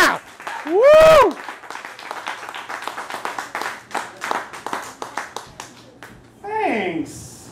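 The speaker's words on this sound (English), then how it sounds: "That was the kind of applause I wanted." Audience applause after a poetry reading at an Everett poetry night: a loud whooping cheer opens, then steady, dense clapping from a live crowd fills several seconds before more cheering voices rise near the end.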